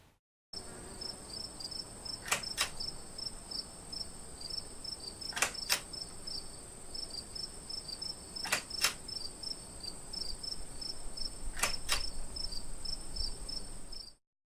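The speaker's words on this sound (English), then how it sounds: "What we saw was the 4 rotations with some crickets and a latch audio thing that I added in" Steady insect-like cricket chirping runs throughout an animated demo, punctuated by four sharp metallic latch clicks spaced roughly three seconds apart, each a quick double snap standing out clearly above the chirping.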